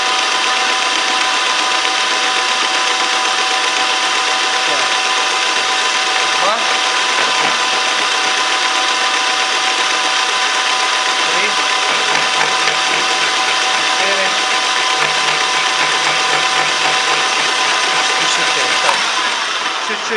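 A disc milling cutter runs continuously on a metalworking mill, a loud steady mechanical whine and hum with a constant tone, sustained throughout with slight variations and faint clicks.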